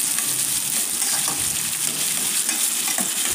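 Chopped onion and green chili sauté steadily in a hot pan, a continuous close sizzle with soft stirring scrapes throughout.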